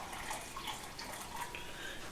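Water runs steadily from a tap into two roughly quart-sized bowls, filling them about halfway; a soft, continuous splashing trickle with small bubbling plops, fairly quiet and heard alone.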